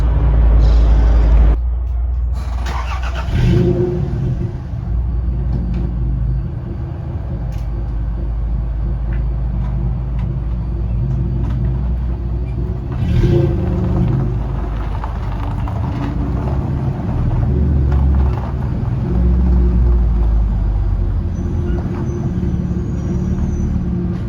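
A 1995 Toyota Tacoma truck backs up slowly, a steady low engine rumble running for over twenty seconds with a few clunks and knocks near the start and scattered light rattles throughout, no voices.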